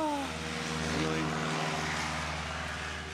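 A Cessna 150 light airplane's engine drones loudly and steadily from inside the aircraft, a constant propeller hum filling the whole stretch.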